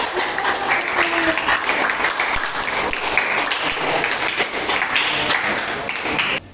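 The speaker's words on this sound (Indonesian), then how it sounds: "Silakan kelompok 1 kita beri tepuk tangan yang meriah" A class gives group 1 a lively round of applause, dense steady clapping from many students that runs loud and unbroken before cutting off sharply at the end, with some voices mixed in.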